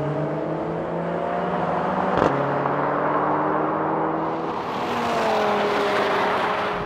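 A Ford Focus RS and a Mercedes A45 AMG accelerate hard side by side in a drag race, with rising engine whines, a sharp gear-shift break and continuous loud revving throughout.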